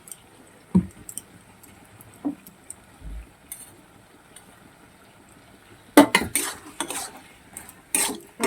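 Ridge gourd curry with ground coriander, cumin and a little water stirred in a pan, giving a few scattered utensil scrapes and clinks early on, then a louder burst of spoon-against-pan stirring in the last few seconds, with no talking.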